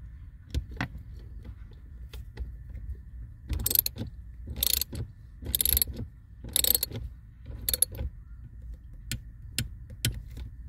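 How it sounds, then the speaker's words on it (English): A ratchet with a 10 mm socket and extension tightens a bolt on a 2006 Mazda 3 during AC expansion valve work, giving several bursts of rapid metallic clicking with short pauses between them, heard up close. "So I'm here using 10 millimeter socket with an extension."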